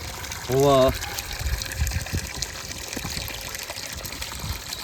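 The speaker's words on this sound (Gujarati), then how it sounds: "પાણી આવી ગયું" Water gushing steadily from a tap, a continuous splashing flow heard under a brief voice and background chatter throughout.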